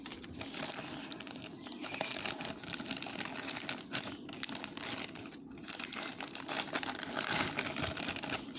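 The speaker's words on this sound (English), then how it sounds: "I'm going to keep it in the cellophane bag." A cellophane bag crinkles and rustles close up as it is worked around a Heritage 22 WMR revolver cylinder, with continuous dense crackling throughout.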